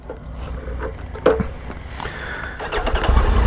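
A BMW R nineT motorcycle starts up outdoors near a roadside café amid a group of bikers, with a sharp crank and catch followed by a building, rumbling engine note that grows louder toward the end.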